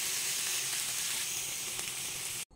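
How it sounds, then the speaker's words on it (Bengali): Hilsa fish pieces, laid out with salt, spices and onions, fry in mustard oil with a soft, steady, close sizzle that stays even throughout. No one speaks. "অল্প পরিমাণে লবণ ছিটকে মাছের টুকরো আর মশলা পেঁয়াজগুলো খুব সুন্দর করে বিছিয়ে দিলাম"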